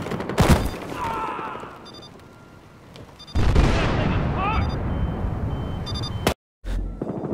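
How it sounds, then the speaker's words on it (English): Gunfire from a Battlefield Hardline online match: a sharp shot, then distant rattling fire, then a louder sustained burst of shooting with brief cuts in the sound, with faint talk. "my teammate is in a gunfight with one guy"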